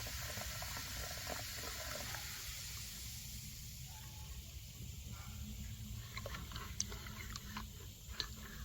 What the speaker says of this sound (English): as I pour this in here, it'll bubble a lot